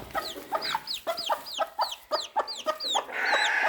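A dwarf Cochin hen clucks repeatedly at close range, a rhythmic run of about ten short rising clucks, loud and without talk, ending in a longer drawn-out call.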